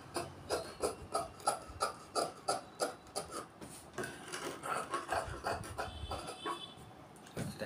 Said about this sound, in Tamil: இப்போ ஃப்ரண்ட் நெக்கு வெட்டுவதை கவனிங்க.